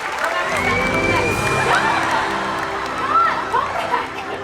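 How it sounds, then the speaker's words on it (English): Crowd cheering and clapping from an audience at a Universal Studios Hollywood special effects show, a steady dense wash of applause with shouts and voices on top throughout. "Give him a big round of applause, everybody."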